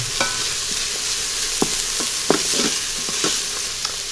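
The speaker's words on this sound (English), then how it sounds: "we're going to add the shallots. We're just going to cook this until they just start to brown" Shallots sizzle in a pot during stir frying for a beef rendang, a steady close hiss with occasional scraping stirs and light clinks.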